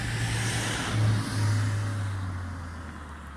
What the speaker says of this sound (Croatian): Prođe auto.